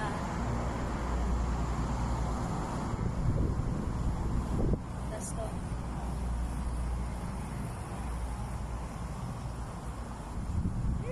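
Steady wind on a rooftop buffets the microphone with a constant low roar for several seconds, while a voice briefly speaks underneath.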